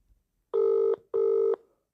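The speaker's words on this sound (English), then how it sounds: "Ringing phone." A telephone rings twice, two even electronic tones with a short gap between them, clear and close against silence.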